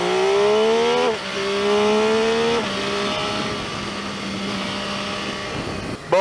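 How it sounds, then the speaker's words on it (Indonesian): An MV Agusta F3 675 three-cylinder motorcycle engine revs up repeatedly, each rising whine dropping off before climbing again, close and loud with a rough edge. "MV Agusta itu dia kan 3 silinder ya, sama kayak MT-09, cuman bunyinya itu nggak sehalus MT-09."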